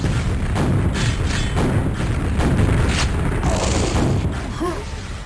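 Rocket explosions and weapon fire in a Quake deathmatch on the dm4 map, a dense run of booming thuds over steady game noise, with a sharper burst near the end.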